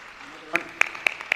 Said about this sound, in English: Another round of applause for Madam Karama, please.